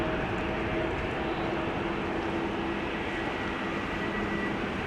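A CRJ regional jet at a rainy Amsterdam Schiphol Airport, a broad, steady engine roar holding at a constant level from a distance, with no voices.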